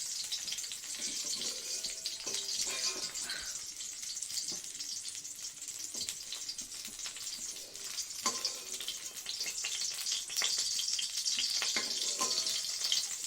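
Cauliflower florets frying in oil without salt for an egg, potato and cauliflower curry, a steady dense sizzle running throughout with brief faint clinks and stirring, no voices.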